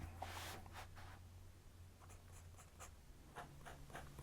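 A steel Esterbrook 2556 fountain pen nib scratches softly across paper in short strokes and pauses, faint and close, with a low steady hum under it.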